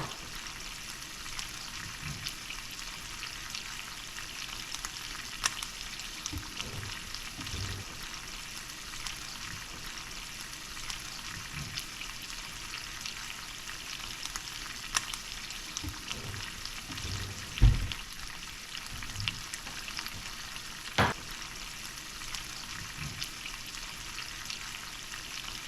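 Calamari piccata simmers in a pan with wine, butter and lemon juice, giving off a steady, moderate sizzle broken by occasional stirring knocks and clinks.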